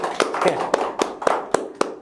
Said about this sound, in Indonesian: Please welcome Mas Syaukul Muhibin. Tepuk tangannya dong